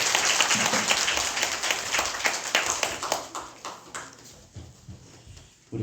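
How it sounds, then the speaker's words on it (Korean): A church congregation applauding after a prayer, a lively burst of clapping that gradually thins into scattered claps and then fades, ending with a brief sound at the very end. "우리 박수로 하나."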